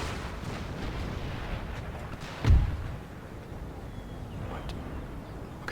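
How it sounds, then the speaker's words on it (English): Musket volley fire in Empire Total War, a single heavy booming report rising out of a steady low battlefield rumble, then fading back into the continuous din. "That is absolutely exemplary shooting here."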